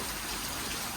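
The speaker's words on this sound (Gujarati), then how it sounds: "જો મોઢું બે જોઈ લો કેવો વરસાદ પડે જોવો તમે" Heavy rain pours down steadily outdoors, a dense, loud, unbroken hiss with no gaps.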